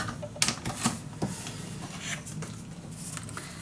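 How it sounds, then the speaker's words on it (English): A paper trimmer slicing scrapbook paper makes a few quick, close, sharp crisp cuts and scraping sounds, with no talking. "And I'm gonna cut this down at 1 millimeter."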